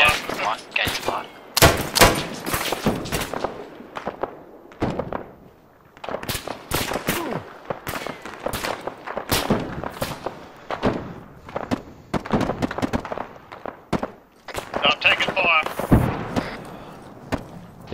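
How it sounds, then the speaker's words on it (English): Gunfire rings out in combat at the Restrepo outpost: repeated sharp shots and bursts in irregular clusters, loud and close, with voices talking between them. "We're taking fire from the east northeast."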